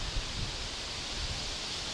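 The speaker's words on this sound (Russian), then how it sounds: "Сегодня, как говорил, сильно ветрено. Не знаю, как это будет на звук, но ветер что-то становится сильнее." Strong wind blows outdoors by a lake, a steady broad roar with low gusty rumbles buffeting the microphone, and no one speaking.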